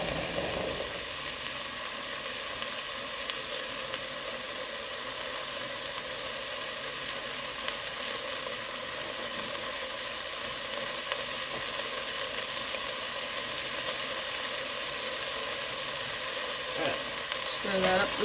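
Red onion frying in a pan gives a steady, even sizzle that runs the whole time, with a few soft scrapes of stirring near the end.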